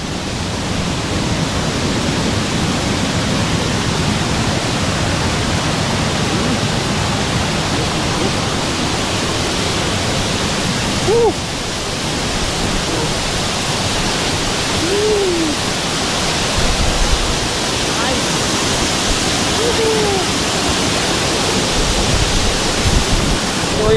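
A high, strong waterfall roaring nearby on a rainy day, a loud, steady rushing wash of water that fills the whole stretch with no talk.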